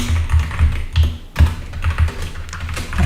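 Fingers tap out a PowerShell script on a computer keyboard, a close, quick, uneven run of key clicks with short pauses between bursts.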